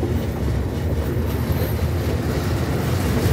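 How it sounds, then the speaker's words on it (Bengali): The Ekota Express bound for Panchagarh rumbles past over a river bridge with broad-gauge tracks, a loud, steady, close roar with rapid rhythmic clatter of wheels on rails throughout. "বসেছিলাম একটি ট্রেনের জন্য, যেটি পঞ্চগড় যাবে একতা এক্সপ্রেস"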